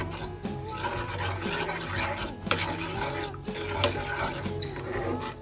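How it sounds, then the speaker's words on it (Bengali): Green chili sauce ingredients (chilies, garlic paste, salt, black salt, sugar and vinegar) are stirred and mixed on a grinding stone, giving steady scraping and stirring sounds with occasional clinks throughout, close and moderately loud, with no talk. "এখন সবগুলো আমি নেড়ে চেড়ে মিক্স করে দেব"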